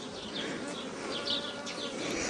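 Bees buzzing around a beehive in a village yard, a close, continuous droning hum with individual insects whining past near the microphone and a faint bird chirp in the background.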